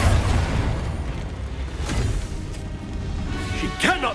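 Bombarda blasting spell going off in Hogwarts Legacy, a loud booming explosion with a rumbling low-end tail that keeps up for several seconds, overlapping other battle sounds and voices.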